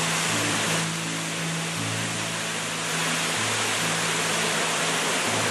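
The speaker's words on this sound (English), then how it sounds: "we couldn't resist visiting this waterfall before setting off." A waterfall on a creek in flood roars as a dense, steady rush of falling water, loud and close throughout, with a faint low tonal hum beneath it.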